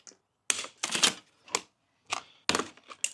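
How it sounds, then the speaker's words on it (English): Scissors snip through zip ties on the packaging of an EVERCROSS EK6 folding electric bicycle: a series of sharp, close clicks and crunches, irregularly spaced and heard without talking. "get some scissors because I don't want to use my knife to cut all these zip ties"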